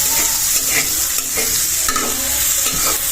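Onions and green chillies fry in a pan for a baila fish dish, a loud continuous sizzle with repeated spatula stirs and scrapes close by, no talking.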